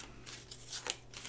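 Tarot cards being shuffled by hand in a few quick, soft riffling bursts, close and fairly quiet, with no talking over them.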